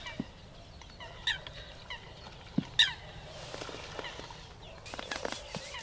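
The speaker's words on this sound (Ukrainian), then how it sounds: "Качки, а ну киш отсюди." Several short duck calls sound out at intervals over a quiet outdoor background by a fishing pond, with a couple of louder honking quacks standing out.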